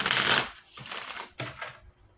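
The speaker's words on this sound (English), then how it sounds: "Allow me to shuffle." Playing cards are shuffled in a few quick riffling bursts, loud at first and then briefly again, heard alone without talk.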